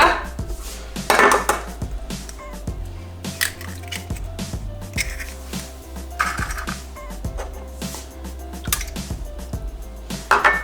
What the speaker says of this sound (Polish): Jajka klasycznie najpierw wybijam sobie pojedynczo do miseczki. i wrzucam do pojemnika.